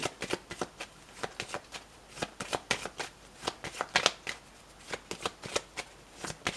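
A deck of tarot cards shuffled close up, a quiet but busy stream of quick riffling and flicking bursts that repeats without pause and has no speech over it.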